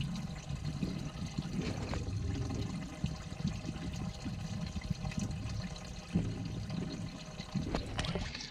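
Coolant drains out of a BMW E46 cooling system in a continuous low splashing pour, steady and close, with brief shifts in the flow.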